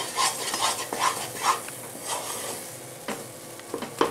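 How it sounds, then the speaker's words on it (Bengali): A milk powder sandesh mixture being stirred in a pan, with repeated scraping strokes of a spatula against the pan in an uneven rhythm over a soft sizzle, close and with no voices. "আমাকে এইভাবে এইভাবে নাড়তে হবে যতক্ষণ এটা একটু শুকনো শুকনো হয়ে আসে।"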